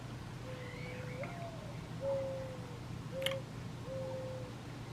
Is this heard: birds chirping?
yes